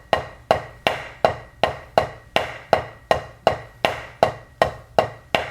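Snare drum rudiment measure played with taps, upstrokes and downstrokes, about thirteen sharp, evenly spaced strokes in a steady pulse, each with a crisp attack and quick decay, heard alone and close.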